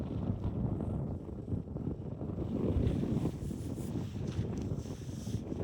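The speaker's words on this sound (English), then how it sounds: "It's crazy how much wind there is right now." Strong wind buffets the microphone outdoors at a long-range shooting range, a steady low roaring rush that swells and eases throughout, loud and continuous with no talk.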